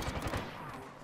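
Gunfire from the battle royale shooter Apex Legends, a quick burst of several loud shots in the first half, then fading into a steady low rumble of game noise.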